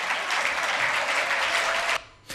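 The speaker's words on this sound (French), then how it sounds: "Je vous demande de l'applaudir bien fort." An audience applauds loudly at a public event in Côte d'Ivoire, a dense sustained wash of clapping that cuts off abruptly near the end.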